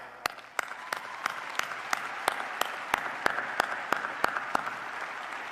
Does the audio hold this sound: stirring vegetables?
no